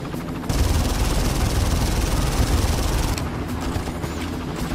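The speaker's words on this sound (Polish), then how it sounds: "No nie! Śmigłowiec" Helicopter in the Far Cry video game, a loud steady rotor drone with broadband engine noise, mixed with bursts of gunfire, continuous across the clip with a brief quieter moment at the start.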